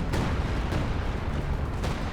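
Artillery shells landing on infantry in Company of Heroes 2 on the Nordwind 4v4 map, a continuous rumbling barrage with a few sharper impacts breaking through, steady and moderately distant.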